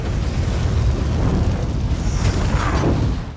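A movie explosion erupts during a massive tornado scene, a loud continuous rumbling boom with dense low roar sustained for about three seconds before tapering off.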